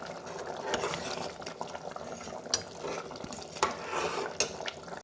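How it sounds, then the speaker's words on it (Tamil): Soaked rice stirred with a metal spoon in a pot of boiling water while cooking tomato rice, with irregular scraping clinks against the pot over a bubbling simmer, close and moderately quiet. "அரிசி உடையாமல் கிண்டி விட்டுக்கலாம்."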